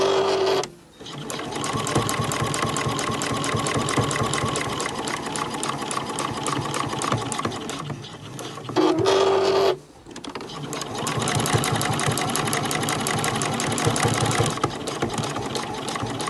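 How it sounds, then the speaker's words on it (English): Sewing machine stitching down the outside edge of thick fabric scraps for fabric rose hexagon embellishments, a steady loud whirring run with two brief pauses, close up. "we're going to do the same, just sew down the outside edge."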